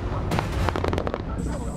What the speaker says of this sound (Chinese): 罐头音效代替枪声